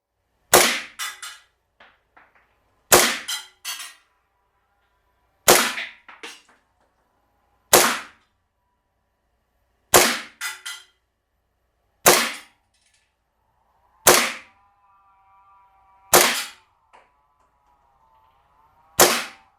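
Gas blowback shots from a KJWorks KP-16 airsoft pistol, fired in a field test: nine sharp, loud cracks spaced about two seconds apart, each with a short clacking slide echo.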